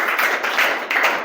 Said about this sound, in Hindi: ओके, सिमरन के लिए तालियां हो जाए।